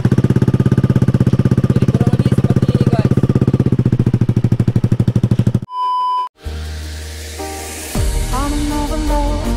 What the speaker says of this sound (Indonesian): Kali ini kita coba knalpot dari Vilan.